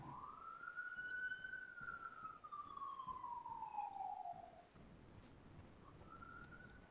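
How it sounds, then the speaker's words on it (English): A faint siren wails in the distance, its pitch sliding up and then slowly down, over a steady hum of background noise. "I heard a siren in the background."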